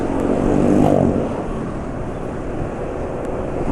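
Motorcycle engine running on Mesran 20W50 oil, a steady close idle with a brief rev swell near the start before settling to an even hum.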